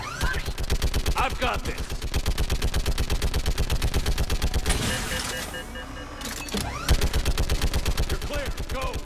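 Rapid automatic gunfire in the sci-fi shooter Mass Effect 3, a dense unbroken stream of loud close shots with a short pause midway, while a voice speaks briefly over it.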